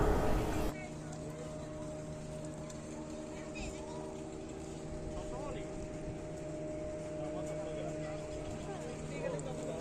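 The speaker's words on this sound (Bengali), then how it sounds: "শুরু হলো দুর্দান্ত স্পিড বোট রাইড।" A speedboat cruises on the water at Masanjor, its engine a steady droning hum throughout, with voices and wind faintly mixed in.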